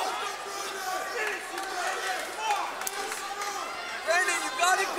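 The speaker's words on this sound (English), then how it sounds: "they acknowledge the crowd that's cheering them on here" Spectators at a Tuff-N-Uff amateur MMA bout roar and cheer steadily through the whole stretch, swelling louder near the end, with scattered voices and shouts mixed into the crowd noise.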